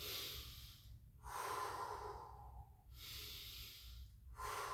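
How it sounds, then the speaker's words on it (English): Slow, deep breathing in preparation for a martial arts kiai: alternating breathy inhales and exhales, close and audible on their own, with a steady rhythm of roughly three breaths. "when you get a great Kiai, it's always good to try to breathe a little bit"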